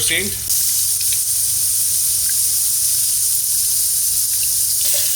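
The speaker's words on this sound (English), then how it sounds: "Now in the same oil, I'm going to shallow fry my potatoes." Potatoes shallow frying in oil over a medium flame give a loud, steady sizzle and hiss that fills the whole stretch with no pause.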